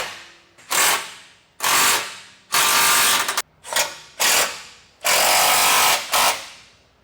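A ratchet tightens the big cross bolts on 3rd-gen Toyota Tundra rock sliders, loud close rapid clicking in six repeated strokes of about half a second each, with brief pauses between them.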